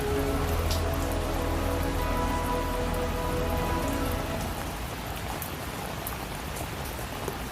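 Heavy rain pours down steadily, a dense, loud hiss of drops striking surfaces close by. It continues without a break and eases slightly toward the end, with no voices.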